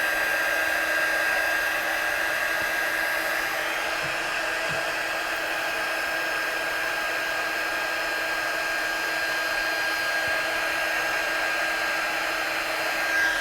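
A heat gun blows over wet ink on colored cardstock, a loud, steady whirring roar with a high whine that runs unbroken throughout, with no talking.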